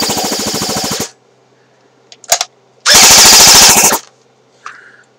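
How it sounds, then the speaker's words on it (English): Bursts of rapid mechanical clatter from a JG airsoft gun being dry fired: one sustained rattling burst, a short pause with a brief click, then a second full-automatic burst, loud and close with no talking. "you're not supposed to dry fire your guns, but, you know, I don't care."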